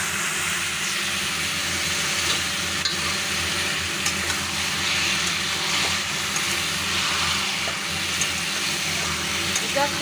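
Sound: stir-frying boiled broccoli stalks with cumin and green chilli

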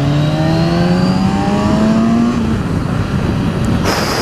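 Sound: Kawasaki Z1000SX motorcycle accelerating hard

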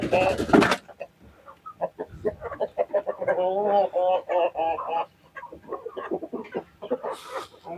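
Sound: hens clucking after being called

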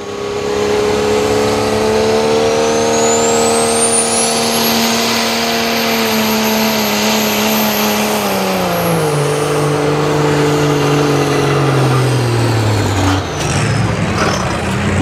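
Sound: diesel pulling truck engine roaring down the pull track

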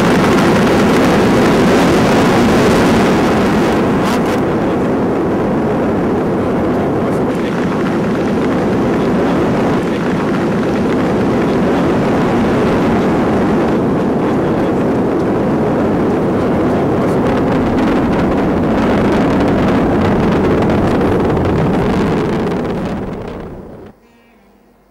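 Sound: ISRO rocket launch roar after the ignition countdown

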